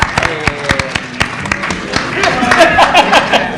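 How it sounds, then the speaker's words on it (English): Scattered clapping and light crowd noise from an audience at an HIV stigma summit panel discussion, with voices and cheering mixed in over a few seconds. "We don't get no applause in that?"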